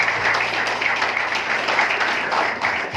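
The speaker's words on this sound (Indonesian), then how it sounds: "Tepuk tangan ke Bapak Ibu semua." Applause from a seated audience at an Indonesian health-education session, a steady wash of many hands clapping continuously for about three seconds with a faint low hum underneath.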